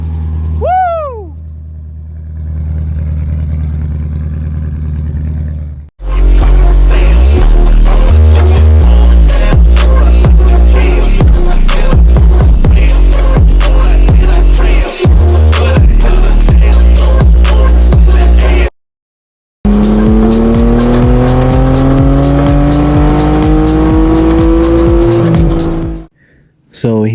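An LS V8 engine swapped into a BMW E30 cranks, catches and revs hard, its loud growl rising and falling in repeated sweeps across several cuts, with shouting voices around it.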